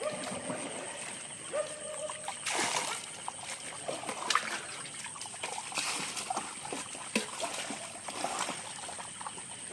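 Rohu fish released into a pond send up irregular splashes and trickling water, with sharper bursts standing out against a steady outdoor background, fairly close and moderately quiet.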